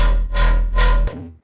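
Delay Lama synth track with sub bass added: a sustained, vowel-like synth tone over a heavy low-end drone, swelling in three phrases, then cutting off into a short fading tail.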